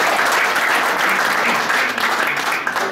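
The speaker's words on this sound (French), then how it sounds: "On peut les applaudir." Steady, dense applause from an audience at a French third-division team championship closing ceremony, honoring the fifth- and sixth-placed teams; loud and continuous throughout with no break.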